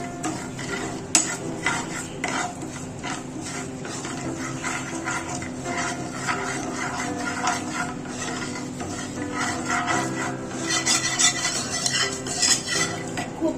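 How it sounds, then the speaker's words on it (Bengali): Cake batter of crushed biscuits, milk and sugar being stirred with a spoon in a bowl, a continuous scraping and clinking rhythm close up, steady and moderately loud throughout. "সবকিছু খুব ভালোভাবে মিক্স করে নেব"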